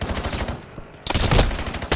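Rapid automatic gunfire from the video game Warzone, with dense bursts of shots that drop off briefly and then return louder, and no voices over it.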